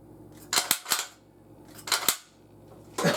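Rifle shots fired outdoors after fitting a new Boyd's stock to an old rifle: four sharp, loud cracks in two closely spaced pairs, then the start of a fifth blast at the very end, each with a short ringing tail.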